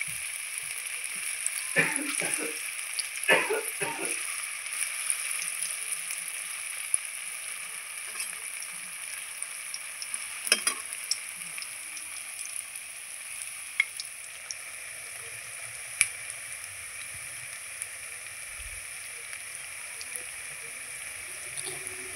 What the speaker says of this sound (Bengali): আবারও যেটা বেঁচে ছিল সেটা ভেজে নিচ্ছি